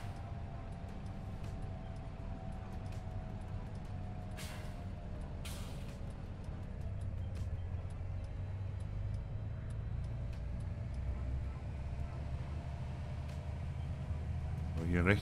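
A 724 tractor pulling a Kotte Garant slurry tanker drives along at a steady low engine rumble with a faint tonal whine, while air hisses and clicks break in briefly and someone talks over it.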